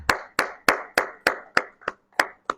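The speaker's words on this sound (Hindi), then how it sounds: "जोरदार तालियां बजाइए" Clapping at a church sermon, heard as about nine sharp, distinct claps in a steady rhythm, close and clear with quiet gaps between them.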